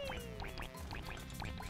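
Plunger ducks in Super Mario Sunshine quack in a quick, bouncy series of about eight bright calls over game music, loud and close with no talk.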